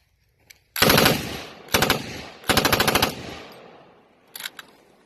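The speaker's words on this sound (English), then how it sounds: "Light machine gun." A light machine gun, the Rype 99, fires several loud, close bursts of rapid automatic shots, with short pauses between them and a final brief pair of shots at the end.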